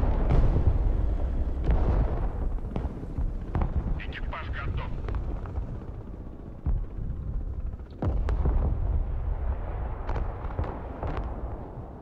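In the game Broken Arrow, bombing and artillery explosions boom repeatedly, deep blasts and sharp cracks over a constant rumble, while someone talks over the battle.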